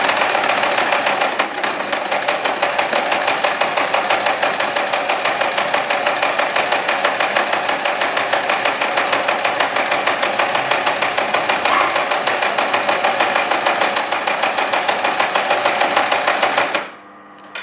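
A basic sewing machine stitches fabric, running in a steady, loud, rapid mechanical chatter that holds an even rhythm before stopping abruptly near the end.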